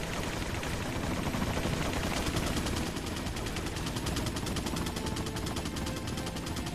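Minigun fire in Resident Evil 4, a long unbroken rapid stream of shots, loud and close for the whole stretch, with no talk over it.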